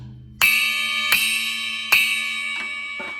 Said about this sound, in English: Pretty nice sounding little bell.